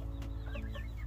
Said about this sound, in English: So he's a rooster, and Marshmallow is the only female I got